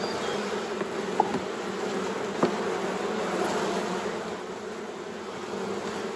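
Honeybees crawl over brood frames from a mini-hive used to start swarms, giving a steady low buzzing hum throughout with a couple of faint clicks, no voices.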